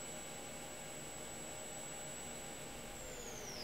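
An Ares Seiki CNC vertical machining center spindle turns at 9,000 RPM, giving a faint, steady high-pitched whine over broad hiss, the tone sliding lower near the end as the spindle slows.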